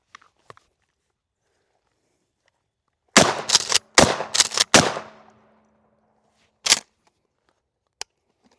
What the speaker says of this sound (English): So, see what we do with the shotgun.